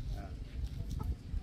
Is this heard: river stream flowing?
no